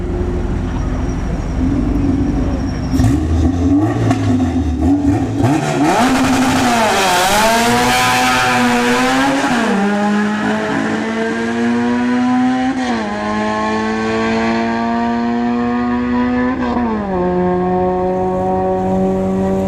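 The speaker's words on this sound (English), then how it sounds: "this is a nitrous Civic here" A nitrous Honda Civic at a drag strip, its engine revving hard, then launching and pulling through rising high-pitched gear runs with shifts, loud and close before fading slightly as it goes down the track.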